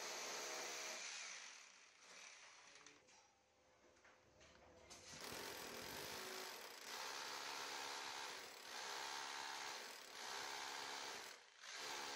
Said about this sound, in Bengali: এই জন্যে ড্রিল করতে হবে মোট চারটা হোল করতে হবে